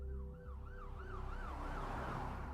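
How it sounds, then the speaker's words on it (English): An ambulance siren wails in a steady rising and falling cycle, loud and close, with a constant traffic rumble underneath and no voices. "An ambulance soon arrived"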